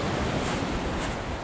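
Sea waves wash against the shore at a fishing spot, a soft, steady rush of surf mixed with wind buffeting the microphone, brief and unbroken.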